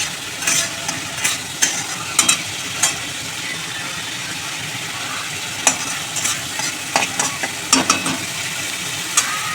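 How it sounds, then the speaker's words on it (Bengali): Spice masala with turmeric stir-fried in a pan for a home-style vegetable dal, a steady close sizzle broken by repeated sharp scraping strokes of the spoon throughout. "কষিয়ে একটু মশলাটা বেশি কষবো না"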